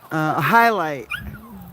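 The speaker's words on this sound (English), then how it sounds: "That's my dog." A pet dog named Coco lets out a drawn, whining whimper close by, rising and falling, followed by a softer trailing whine while a person speaks briefly.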